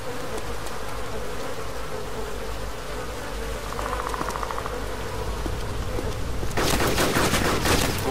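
Gunshots in the video game DayZ: a steady insect-like buzzing ambience persists throughout, then a loud rapid burst of shots breaks in near the end, close and sharp.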